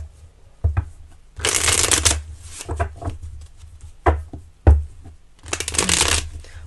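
Tarot cards are shuffled and cut up close: bursts of riffling and flapping alternate with sharp taps as the deck is squared and split, loud and with no talking.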